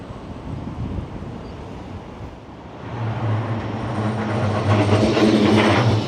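A Blackpool tram rolls past on the tram tracks beside the seafront, its rumble and a low hum swelling louder as it approaches, under background wind.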